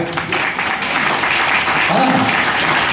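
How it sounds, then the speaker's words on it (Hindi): An audience at a network marketing seminar claps steadily and loudly for about three seconds, a dense, even wash of applause with a voice speaking over it partway through. "एक बार ताली बजा दो"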